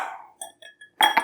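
A large ice cube dropped into an empty cocktail glass for an Old Fashioned, giving a few bright glassy clinks and taps followed by a louder rattling clatter, close and alone without speech.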